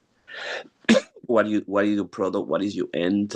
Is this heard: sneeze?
yes